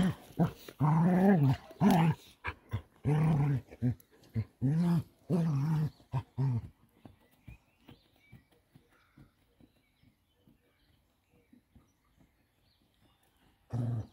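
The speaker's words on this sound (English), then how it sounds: "Dogs." Dogs growling and barking in loud, close bursts through the first seven seconds, then fading to faint scattered sounds and near quiet.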